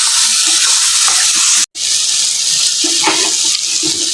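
Boiled mutton being stir-fried with spice masala in oil in a pan, giving a steady broadband hiss with a brief break partway through and a few faint clinks from the spatula.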